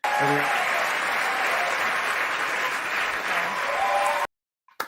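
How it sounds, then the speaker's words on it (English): An audience claps steadily for about four seconds while a voice talks over it. The clapping then stops abruptly into silence. "Are you clapping for my face?"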